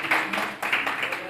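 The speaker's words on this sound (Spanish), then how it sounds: "¿Cuántos pueden dar un fuerte aplauso a esa palabra fiel y digna" Congregation applause in a Spanish-language church service, a brief burst of clapping in close, rhythmic waves, moderately loud.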